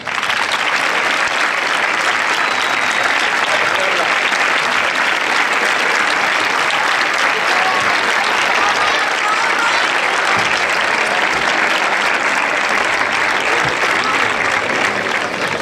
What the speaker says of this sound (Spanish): aplausos para Valeria Sabini.